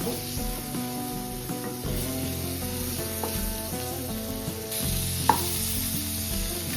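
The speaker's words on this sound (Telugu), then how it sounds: "సో అలా కావాలి అనుకున్న వాళ్ళు కొంచెం ఎక్స్ట్రానే బాగా ఫ్రై చేసుకోండి," Paneer cubes fry in a pan with a steady, close sizzle, and several sharp clicks and scrapes come through as the pieces are slowly turned. No one speaks.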